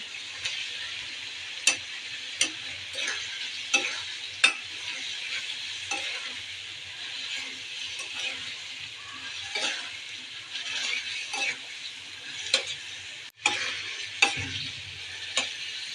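Spice paste and baim fish frying in oil with green chilies in a pan, a steady close sizzle broken by irregular scraping stirs and sharp ticking clicks of a utensil against the pan.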